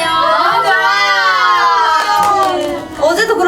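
A concert crowd of fans screams and cheers loudly at a world tour show in Seoul, a sustained, high-pitched roar of many voices with some clapping.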